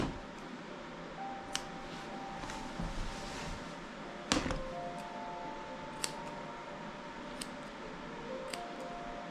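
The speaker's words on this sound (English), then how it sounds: "And I'm just going to snip the hair out." Grooming scissors snip a dog's hair in a few sharp metallic clicks spaced seconds apart, one louder than the rest, over a quiet room hum.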